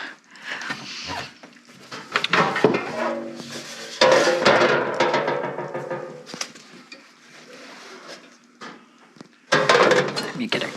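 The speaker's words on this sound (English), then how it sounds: "get a cookie sheet out here, just in case this does boil over" A metal cookie sheet is pulled out in a home kitchen while tamale pie is cooking, bringing bursts of clattering pans and clinking cutlery over ongoing talk.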